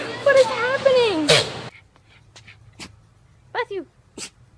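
A dog sneezes a few times, short sharp bursts after a stretch of a person talking and exclaiming, with quiet gaps between the sneezes.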